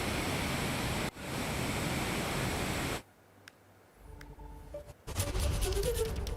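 Water roars from the opened gates of the Modak Sagar dam in Maharashtra after heavy rain, a dense continuous rush that drops away briefly to quiet, with faint tones, before surging back loud.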